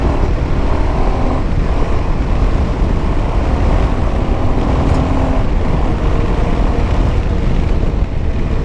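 A Royal Enfield Himalayan 450 adventure motorcycle rides along a road, its engine and wind rush forming a loud, continuous roar heard up close, with no pauses throughout.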